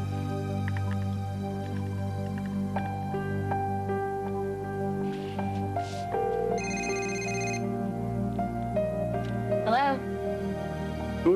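A telephone rings after the last number is redialed: a steady electronic ring tone repeats under a low hum of background music and room sound in a police drama scene.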